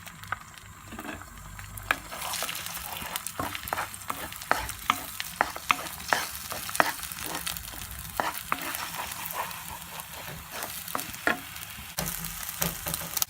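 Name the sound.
beaten egg scrambled in coconut oil in pan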